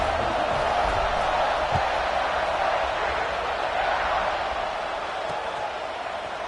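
Football stadium crowd at kickoff of a game against FSU, a broad steady roar of many voices from a distance, easing slightly toward the end.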